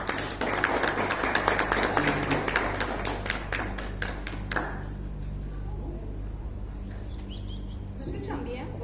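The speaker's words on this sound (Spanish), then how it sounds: "Ahora demos un fuerte aplauso a nuestros expositores el día de hoy." Audience applauding speakers at a marketing presentation, a lively round of clapping that fades out partway through, leaving quiet room tone with a low hum and a few faint sounds.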